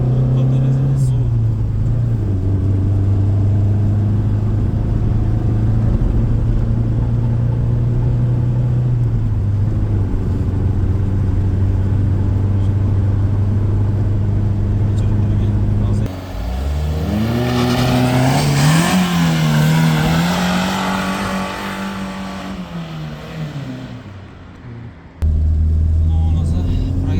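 A Daewoo Nexia engine, running an Eco sport firmware tune, idles with a steady low drone, then revs hard in a rising, wavering surge before the throttle drops away and the idle returns.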